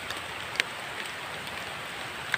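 Rain falls steadily outdoors, a soft, even hiss of drops with a couple of sharper splats, fairly faint and continuous, with no talking.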